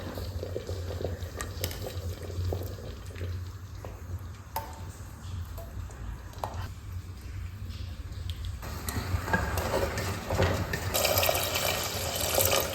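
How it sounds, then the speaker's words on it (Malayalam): Water is poured into a pot of chana dal payasam as it cooks, making a continuous bubbling, trickling liquid sound that grows a little louder toward the end, with no talk. "കുറച്ച് വെള്ളം ചേർത്ത് കൊടുക്കാം"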